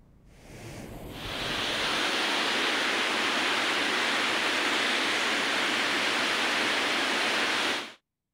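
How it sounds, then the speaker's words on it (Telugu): Heavy floodwater rushing out through opened irrigation project gates after torrential rain, a loud, dense, continuous roar that swells in over the first second and holds steady until an abrupt cut. "ప్రాజెక్టుల గేట్లు ఎత్తి నీటిని దిగువకు వదులుతున్నారు"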